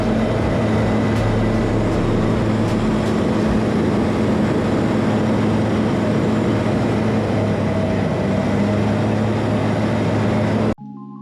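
Eurofox light aircraft with a Rotax 912 engine in flight, a loud continuous engine and propeller drone with steady tonal hum, heard from inside the cabin, unbroken until an abrupt cut near the end.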